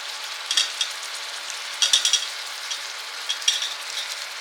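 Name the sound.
soya chunks with masala frying in oil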